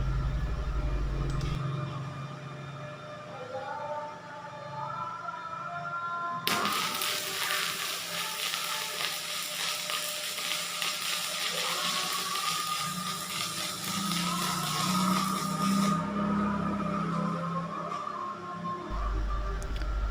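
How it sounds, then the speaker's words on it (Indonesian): A Mailtank SH500 arc welder burns a 2 mm rod at 80 amps, a harsh crackling hiss that starts abruptly and holds for about ten seconds over a low background hum, fairly close and without voices. "Kita naikkan ke ampere 80 dengan kawat las yang sama 2 mm"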